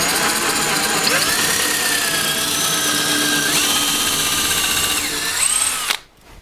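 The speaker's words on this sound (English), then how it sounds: "I don't use a drill with a spur on it because often the little spur just goes a bit deeper than I want" A drill bores a hole into a cedar pot mounted on a lathe, a loud continuous whine with slowly shifting pitch held for about six seconds, then cutting off abruptly.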